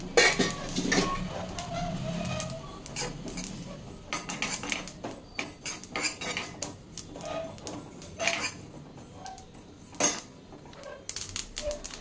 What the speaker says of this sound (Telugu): ఫస్ట్ నువ్వుల్ని డ్రై రోస్ట్ చేసుకోవాలి.